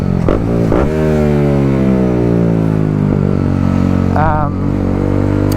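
A BMW G310R motorcycle engine drones loudly and close, its pitch rising and falling as it revs and shifts while riding, with wind rushing and a voice talking over it.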